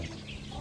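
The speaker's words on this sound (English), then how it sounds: "Uli, look at the chicken." A chicken on a Senegal homestead gives a quick cluck, short and close against faint farmyard background.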